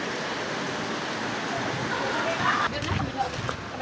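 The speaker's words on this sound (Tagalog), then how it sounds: "Ulan lang. Wala pa gaanong hangin." Steady rain pours during a typhoon in Libagon, Southern Leyte, a dense, even hiss filling the whole stretch, with little wind and a few faint louder patters near the end.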